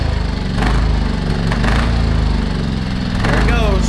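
A small generator engine on choke sputters and tries to catch, running roughly and unevenly at close range while someone talks over it.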